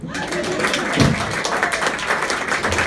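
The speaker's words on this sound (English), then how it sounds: "You can start clapping now." A comedy club audience at the Woolen Mill Comedy Club claps as a set ends, producing a steady, full burst of applause with a low thump near the start and faint voices mixed in.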